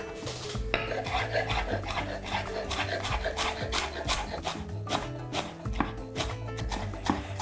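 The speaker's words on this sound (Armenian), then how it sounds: "Այս ամենը ուղղակի մանր կտրատում ենք։" A knife chops a small bunch of fresh parsley, coriander, spring onion and dill finely on a board, with rapid, steady close-up knocks running through the whole stretch and no speech.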